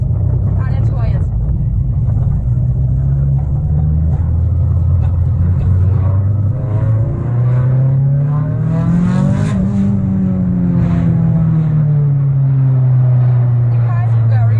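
Circuit-built Mitsubishi Lancer Evolution 6 engine while driving, a loud, steady low drone that rises and falls through revs, close-up interior sound with a deep rumble throughout.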